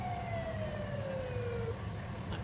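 A police car siren in the Farming Simulator 19 video game, a single descending wail sweeping down over a couple of seconds, moderately faint over a low engine hum, no talking.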